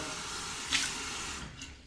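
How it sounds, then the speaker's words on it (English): Hot water from a tap running into a Scuttle-style shaving soap cup, a steady close splashing stream with a brief brighter gush near the start, and no talking. "So I will also take my little Scully cup, hot water in there"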